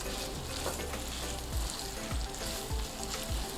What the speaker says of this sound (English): we're gonna mix this a little bit. We're gonna cook this for about 2 minutes.